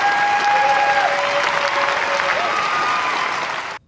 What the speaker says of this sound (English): That girl was hella clapping.